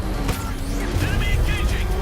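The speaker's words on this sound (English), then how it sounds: "Enemy vehicle in pursuit." An enemy vehicle roars in pursuit in Batman Arkham Knight, a loud, steady engine rumble with faint voice chatter over it.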